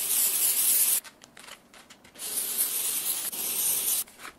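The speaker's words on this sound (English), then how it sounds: "Spray it with hairspray." Hairspray hissing from an aerosol can onto a synthetic wig in two long bursts, close and fairly loud, with a short pause and faint rustling between them.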